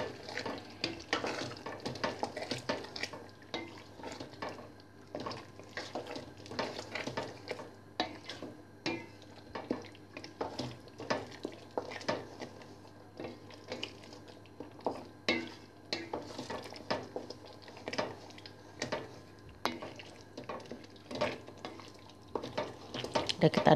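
Turkey and chicken lasagna filling stirred in a pan, with soft repeated scraping and clinks of a utensil against the pan under a faint sizzle, while a person talks intermittently throughout.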